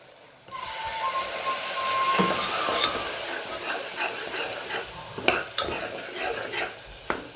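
A spoon stirs a thick masala with water in a pan, with scraping strokes over a steady sizzling hiss and a few sharper clicks against the metal.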